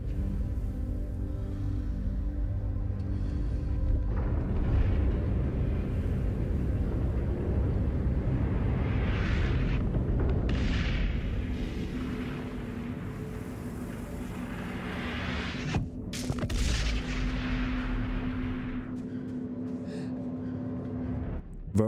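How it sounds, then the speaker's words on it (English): Periodic shockwaves in the video game Inside, heavy low thumping booms that recur every few seconds over a constant deep rumbling ambience, loud and with no voices. "That thumping sound we've been hearing the whole time is a periodic shockwave every 6 seconds, obliterating everything in its path."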